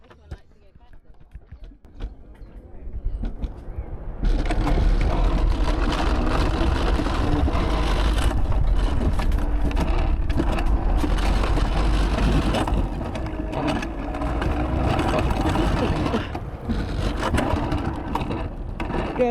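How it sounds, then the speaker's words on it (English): Loud, steady mechanical rumble and rattling of a roller coaster ride, its speed limiter droning on continuously with scraping, clattering texture over a wide band from about four seconds onward, after a quieter start with faint voices. "you hear that noise, I think that's the speed limiter"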